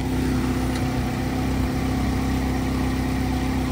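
A 2009 Chevy Cobalt LS with a 2.2 liter four-cylinder engine and automatic transmission idles steadily under the open hood, a constant close, even hum with no talking.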